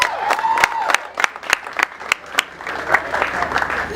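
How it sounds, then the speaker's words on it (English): A burst of audience applause at a poetry launch party, dense close clapping from a crowd with scattered sharper claps and some chatter and cheering underneath. "Please give yourselves a round of applause."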